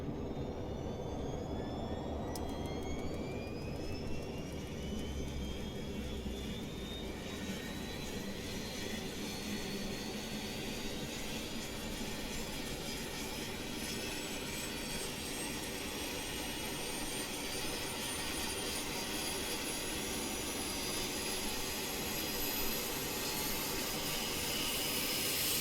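A continuous, steady roar of RJ Professional regional jet engines from a Microsoft Flight Simulator sound set, with a dense rumble and a high whine that climbs slowly in pitch, loud and unbroken throughout.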